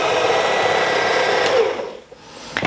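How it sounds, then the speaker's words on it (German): Electric hand mixer whirring steadily as it beats eggs one by one into a dessert dough, a continuous close motor drone that cuts out briefly near the end before starting up again. "Ich nehme jetzt hier mein Handrührgerät"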